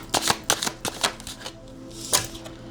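Tarot cards shuffled and dealt by hand during a reading, a quick run of crisp riffling flutters and card slaps, close and fairly loud, with no talking.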